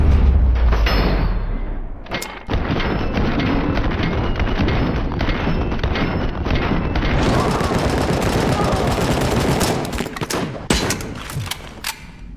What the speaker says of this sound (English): Play with the old rifle for a little bit.